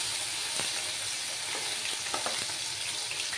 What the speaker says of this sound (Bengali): দেখো বন্ধুরা, তেলটা গরম হয়ে গেছে। এবার আমি মাছগুলো ভেজে নেব।